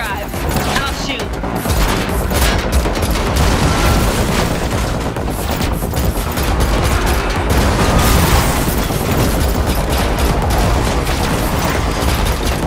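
Gunfire rattles through a car chase in The Matrix Awakens, a dense, loud wash of shots, crashes and engine roar that stays constant with no clear pauses.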